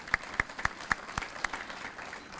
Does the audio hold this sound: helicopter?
no